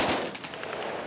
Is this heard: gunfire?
yes